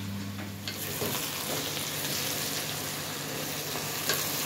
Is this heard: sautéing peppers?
yes